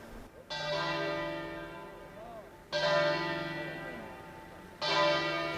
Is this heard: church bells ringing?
yes